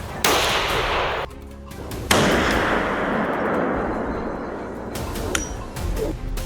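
A loud rifle shot cracks out during a wild boar hunt, with two sharp report onsets and lingering outdoor rumble between them, no voices.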